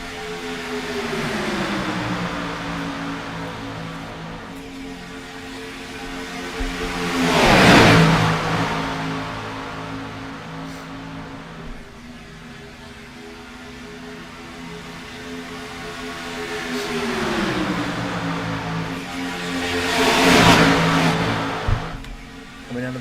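Joes Karting 172 racing karts roar past on the Talladega track in two waves, each engine buzz rising, swelling loud as the pack passes close, then fading into the distance.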